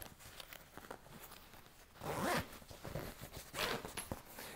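A zipper on a Bugaboo Butterfly stroller cover is zipped in two close, distinct rasping pulls, each lasting about half a second, in a quiet room.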